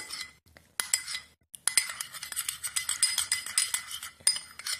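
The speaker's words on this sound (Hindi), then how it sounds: "इन सारी चीजों को आपको अच्छी तरह से मिक्स कर लेना है" A lemon skin paste is stirred and mixed in a bowl, the spoon clinking and scraping against the sides in quick, close, irregular strokes with brief pauses.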